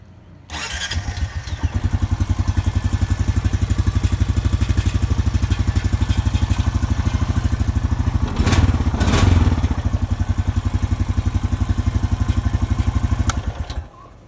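Honda Rancher 420 ATV cold-starting after an idle air control valve replacement, then settling into a steady, close, loud, rapidly pulsing single-cylinder idle that runs throughout before shutting off near the end, with no talk.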